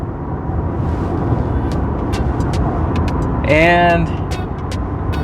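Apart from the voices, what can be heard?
Ford F150 King Ranch hybrid pickup truck driving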